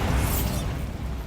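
A short, loud blast from the Bombarda explosion spell in Hogwarts Legacy, a dense burst of noise that fades quickly with no voices.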